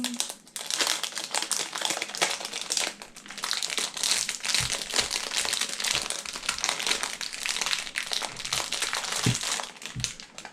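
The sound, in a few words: unwrapping plastic packaging of Dayan Tengyun M puzzle cube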